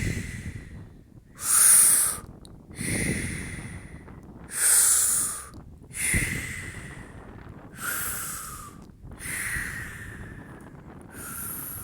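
Slow, deliberate breathing during a guided breathing exercise: about seven rhythmic cycles of airy inhales and exhales, close to the microphone, some with a sharp nasal snort-like rush, with no talking.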